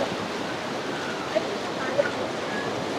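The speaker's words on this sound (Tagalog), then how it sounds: "Kasi ang lakas ng tubig." Strong, fast river current rushing steadily as broadband water noise, close and loud throughout, with no clear pauses and a couple of faint brief clicks.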